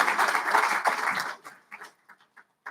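A crowd at a drama festival event in a hotel claps warmly for over a second, and the applause then thins out into a few scattered, fading claps.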